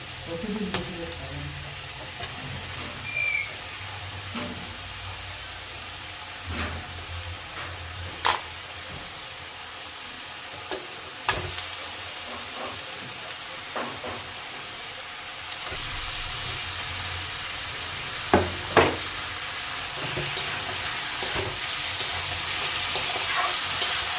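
Chicken sizzles and fries in a pan for a Bengali chicken stew, with steady hiss and scattered scraping stir clicks and taps throughout, fairly close and moderately loud, with no talk.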